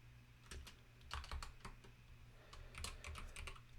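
Quiet typing on a computer keyboard during Java coding, irregular bursts of soft clicky keystrokes with short pauses, close and alone without voices.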